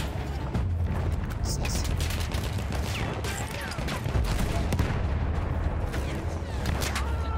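A field gun firing during a Battlefield 1 campaign battle, amid a dense din of gunfire, booms and rumbling under steady battle noise, with a voice speaking over it.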